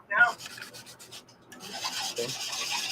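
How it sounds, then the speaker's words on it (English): Light rasping strokes of sanding, soft and close, come in short scratchy bursts and then settle into a steadier rubbing. "Let's see how bad the sound is with me doing some light sanding here."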